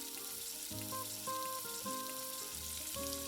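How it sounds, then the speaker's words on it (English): Spinach koftas deep frying in hot oil sizzle and crackle steadily, with a faint background hum and a few soft clinks. "I am sliding the koftas one by one into the hot oil."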